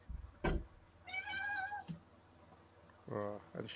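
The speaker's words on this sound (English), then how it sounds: "Oh, and she meowed as well." A cat meows twice, a drawn-out tonal call followed later by a shorter one, both fairly clear and close, with a brief thump early on and quiet room noise between.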